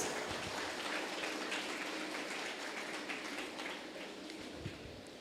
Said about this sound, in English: let us give Attorney Maria Gurley V. Patigdas another resounding applause